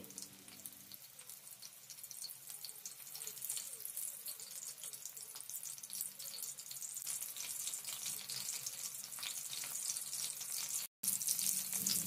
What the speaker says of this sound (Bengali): এবার এটাকে লো টু মিডিয়াম ফ্লেমে ভেজে নিতে হবে।